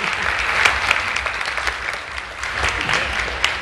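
An audience claps steadily, a dense burst of applause from a roomful of people with a few louder claps standing out.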